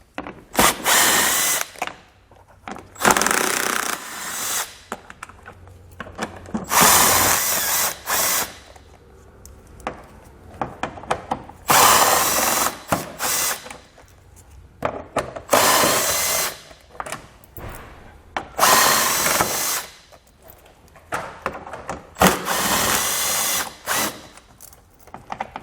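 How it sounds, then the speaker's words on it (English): A power tool drives out a row of 8mm bolts along the front edge of a 2015 Ford Explorer, loud whirring bursts repeating in a steady on-off pattern with brief pauses between each bolt. "we're going to have 9 8mm bolts that we're going to pull out just like this"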